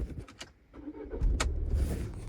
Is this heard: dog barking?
no